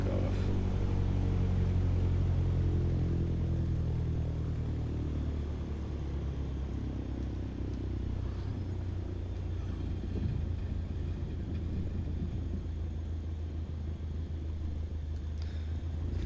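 A Cessna 152 in Microsoft Flight Simulator 2020 sits on the runway as its engine throttles up for takeoff, a steady droning rumble with a low hum that holds loud and constant throughout.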